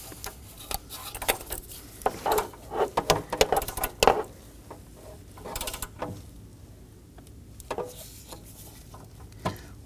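A ratchet snugging an upstream oxygen sensor on a 2.5L Ford Transit Connect, heard as a run of quick, close clicking and metallic creaks that cluster in bursts and then thin out to scattered ticks.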